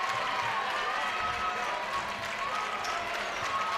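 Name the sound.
South Putnam fans applauding a defensive play at a basketball game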